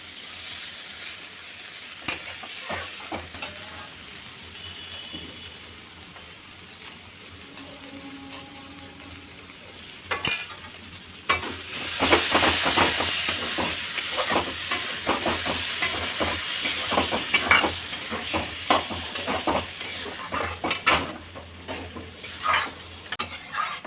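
Banana flower frying with a hilsa fish head in a pan, with soft stirring and scraping at first, then a louder sizzle and busy clatter of stirring from about ten seconds onward, steady and close with no talking.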